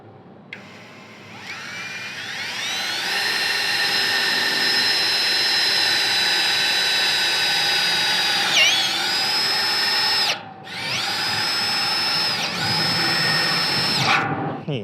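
A Masaru SCDI-105 cordless impact driver whines at high pitch as it drives long roof screws, running for several seconds, pausing briefly, then starting again up close.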